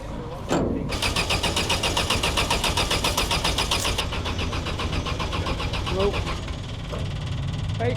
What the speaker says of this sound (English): filling the engine up with petrol now, so get in there, just hold it flat out. Wind it over.